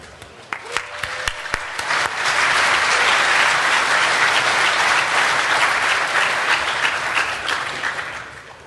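A DEF CON 22 conference audience breaks into loud, sustained applause that swells after a few scattered early claps and holds steady before slowly tapering.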